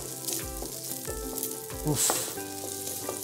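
Chorizo fries in a pan in its own rendered fat, giving a steady, close sizzle with a brief louder flare near the middle; one short exclamation from a voice cuts in, over soft background music.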